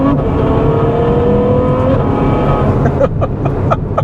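A 2015 Ferrari F12 with a V12 engine accelerates, its loud engine note climbing steadily in pitch, then shifting near the end into a rougher, pulsing tone heard from inside the car.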